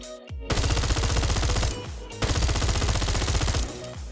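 Two long, loud bursts of rapid automatic gunfire in a shooter video game, each lasting about one and a half seconds and separated by a brief pause.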